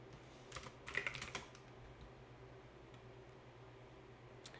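A brief flurry of soft keyboard typing sits low under steady background hiss, clustered near the start and then fading to scattered faint taps.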